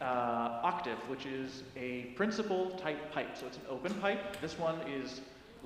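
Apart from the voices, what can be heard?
No everyday noise stands out behind the speech.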